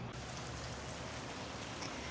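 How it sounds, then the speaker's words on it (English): Rain falling outdoors beside a Miata having a livery fitted, a steady, even hiss of drops with no breaks, moderately quiet and close. "So it is starting to rain."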